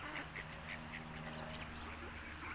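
Ducks quack in repeated short bursts at moderate distance outdoors, with a steady low background hum and no clear talk.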